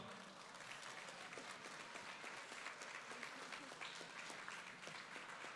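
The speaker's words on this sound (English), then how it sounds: "round of applause for Emma" Steady audience applause for Emma, a contestant in a kids' pizza cooking competition, a dense, even patter of many hands clapping, fairly quiet and sustained throughout with no talk.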